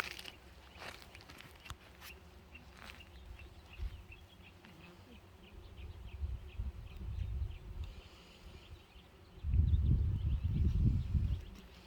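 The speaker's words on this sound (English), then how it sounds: "there's just so many bees." Bees buzz faintly in the background in a lavender field, with occasional bird chirps and low rumbling handling noise.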